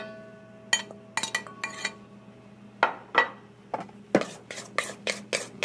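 Shrimp and cooled lumpia filling being combined in a bowl, heard as a run of sharp clinks and taps against the dish in irregular bursts, close and fairly quiet, with no talk.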